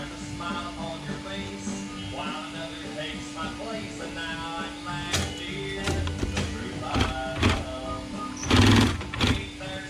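Sewing machine stitching a Reinell boat cover, a steady buzzing run of stitches close by with clicks and handling noises, and a voice speaking over it.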